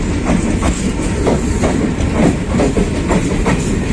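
A nearly empty night train runs on the rails near Sorbhog railway, heard from inside as a loud, steady rumble with rhythmic clickety-clack of the wheels over rail joints.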